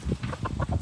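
Chickens cluck in a quick run of short, close, fairly loud calls outdoors on a rural homestead, with no talk.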